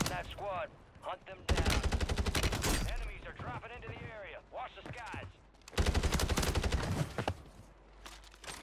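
Automatic gunfire from an SOA rifle in the video game Warzone rattles in two rapid, loud bursts, with other game effects and a player's voice talking over them.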